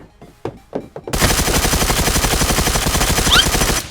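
Loud, sustained automatic gunfire from the survival shooter Badlanders erupts after about a second of near-quiet, then pours out as a dense, rapid, continuous burst of close shots.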